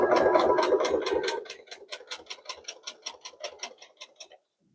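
A sewing machine stitches a quilted pot holder, starting with a loud whirring burst and then slowing to a run of separate, evenly spaced mechanical clicks that stop abruptly.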